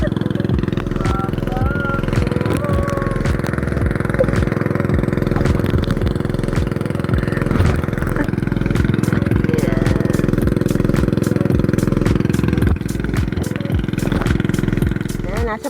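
A steady motorboat engine drones throughout, close and continuous, with clattering and people talking over it at sea near a fish trap.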